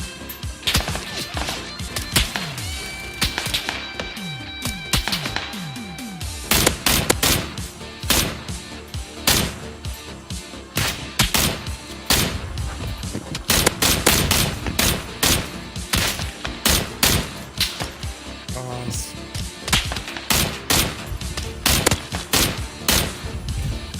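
Rapid bursts of gunfire crack again and again, dense volleys of automatic shots mixed with single reports, loud and close throughout.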